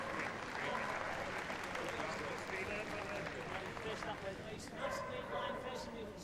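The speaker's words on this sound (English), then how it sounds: "So, a big round of applause, please, for our first and second places in each height category." Indoor arena audience at a Kennel Club British Open dog agility event clapping steadily for placed handlers and dogs, with dogs barking and yipping over the applause and a voice speaking at times.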